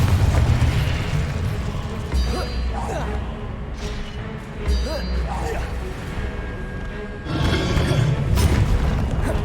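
In Hogwarts Legacy, the Confringo spell sets off several deep booming blasts with whooshing bursts in between. A voice calls out spells over the explosions.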